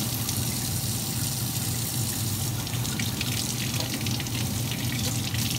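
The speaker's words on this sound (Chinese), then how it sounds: "把茄子洗干净。" Tap water running steadily into a sink while eggplant is washed by hand, a soft continuous splashing stream with small shifts as the vegetable moves under it.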